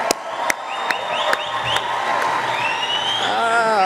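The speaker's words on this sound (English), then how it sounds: "A big round of applause as we welcome the 63 Unidos US affiliates from my home state of California" A large conference luncheon crowd applauds and cheers in a dense, sustained wash of clapping with whoops and shouts, a few sharp claps standing out early and the noise staying loud and full throughout.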